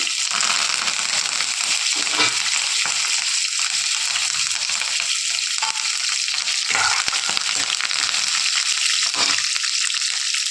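Onions and green chilies sizzle and crackle in hot oil, with occasional stirring scrapes, continuous and close.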